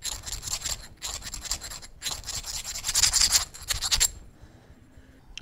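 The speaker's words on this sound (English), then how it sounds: "I take my sharp burrs off." Hand file scraping sharp burrs off a new wagon wheel in a coach shop, a series of close rasping strokes for about four seconds, then quiet.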